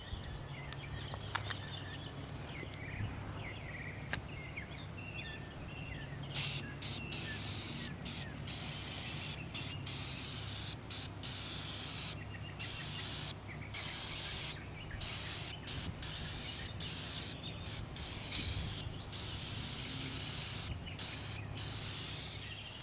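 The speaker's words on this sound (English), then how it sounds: "going to be using oven cleaner, just your regular easy off oven cleaner off the shelf" Aerosol Easy-Off oven cleaner sprayed onto aluminum wheels in a series of close hissing bursts, with short pauses between the sprays and steady background noise.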